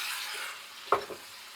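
Eggplant frying in a pan, a faint low sizzle with a single sharp stir or scrape knock partway through, quiet and close with no talk.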